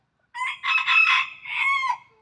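A farmyard rooster crows once, loud and close, in a long drawn-out call with no other sound around it.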